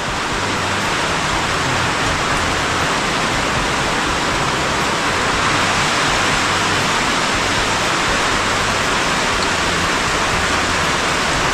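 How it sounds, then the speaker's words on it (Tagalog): Heavy rain pours down in a steady, dense roar of broadband hiss that holds without a break for the whole stretch, loud and close, with no voices over it. "Napakalakas ng ulan."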